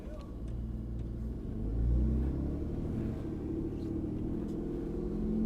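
Stolen RV's engine running steadily as it is driven out of a tight spot, a low rumbling drone with a slight swell in loudness partway through, close by and continuous.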